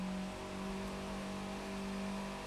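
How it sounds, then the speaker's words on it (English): A Fiat 500 monster truck in The Crew 2 video game drones with a steady, fairly faint engine note, holding a sustained hum at one pitch without any clear rise. "It's a monster truck."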